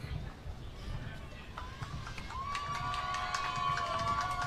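Spectators cheer and shout at a dragon boat race on a Taipei bay during the 2024 Whale God Cup, a broad crowd roar that swells midway while a commentator's voice carries over it.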